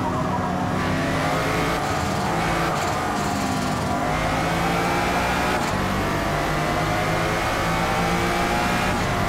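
Engine of a race car in Forza Motorsport on the Hakone circuit at evening, revving hard and accelerating continuously with rising tonal harmonics and brief gear-shift dips, loud and close throughout with no talk.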